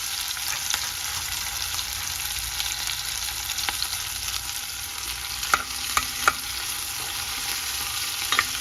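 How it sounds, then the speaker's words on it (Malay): A pot of oil sizzles with a steady, fairly quiet hiss as red snapper is fried, broken by a few light stirring clinks and taps near the end, with no talking. "Kita goreng ni"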